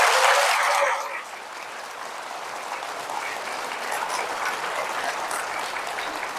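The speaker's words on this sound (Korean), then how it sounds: "봉사자분들을 위해서 박수 한번 쳐주세요" An audience applauds volunteers who run a Catholic charismatic renewal hall during a priest's talk, loud at first and then settling into steady, sustained clapping that continues throughout.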